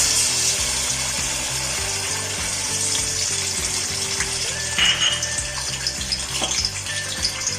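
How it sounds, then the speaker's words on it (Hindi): Ginger garlic paste hits hot oil in a pan for chicken keema karahi, producing a loud, close, continuous sizzle with bubbling crackle and a few scraping clicks, without any talking. "ऑयल में सबसे पहले जिंजर गार्लिक पेस्ट ऐड कर लूँ मैं"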